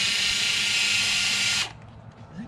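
A power drill whirs steadily for about a second and a half, backing screws out of an old computer monitor, then cuts off abruptly, leaving faint room noise.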